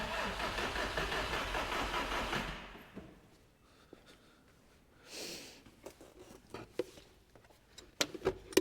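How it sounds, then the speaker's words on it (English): An Audi 1.8T 20V engine in a B3 Passat cranks over with the crank sensor unplugged, a steady loud churning that stops abruptly, followed by quieter clicks, clatter and handling noises close by. "Crank sensor unplugged, oil feed in the pot."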